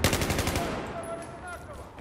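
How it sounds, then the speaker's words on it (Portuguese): Rapid bursts of automatic gunfire up close in the video game Battlefield 1, fading into echoing shots and ringing tones. "a gente tá levando tiro de todo lado aqui"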